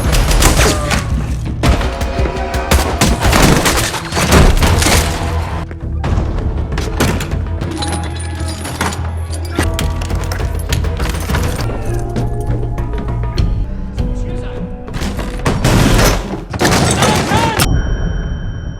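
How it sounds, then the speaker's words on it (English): Movie car chase with overturned cars and wrecked lampposts, loud and dense throughout: deep booms and thuds of explosions mixed with rapid cracks of gunfire under a swelling score, with continuous action noise and little pause. "the sound of distant explosions mixes with the sharp cracks of gunfire"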